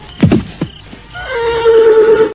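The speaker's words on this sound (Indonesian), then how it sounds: "Kuda putih." A white horse neighs once in a single clear whinny that rises and then holds and wavers, preceded by a few brief thumps, as a sound effect in an audio drama.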